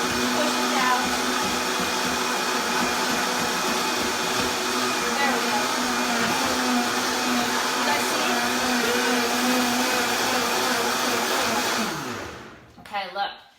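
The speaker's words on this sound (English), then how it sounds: "what I love about this blender is this is called the tamper, so you can just push it down and just get everything going in there" A blender with a tamper roars steadily while blending a green smoothie, loud and continuous, then winds down and cuts out near the end.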